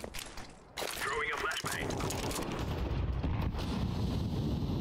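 A flashbang grenade goes off in Counter-Strike wingman ranked play on the Vertigo map: a sudden loud burst, then sustained harsh noise that holds steady to the end.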